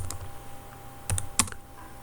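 Several quick keystrokes on a computer keyboard while a room label is typed into architectural design software, close and clear, with a short cluster of taps and quiet pauses.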